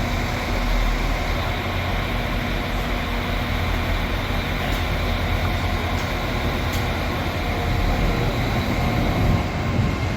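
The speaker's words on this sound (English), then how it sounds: "Here's my train up to Edinburgh." A train runs on the East Coast Main Line between York and Edinburgh, heard from on board as a steady, continuous low rumble and hiss of wheels on track without pauses or talk.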